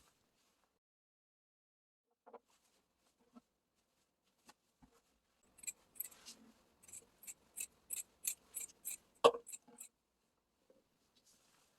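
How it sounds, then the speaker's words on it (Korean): Scissors cutting the edges of a large wrapping cloth: a few faint isolated snips, then a rhythmic run of quick, crisp cuts, fairly quiet and close. "보자기가 좀 크니 사방을 이렇게 잘라줍니다."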